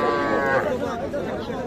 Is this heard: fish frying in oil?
no